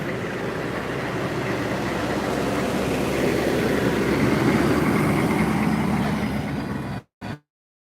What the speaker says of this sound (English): We'll go scan, check in once this vehicle drives by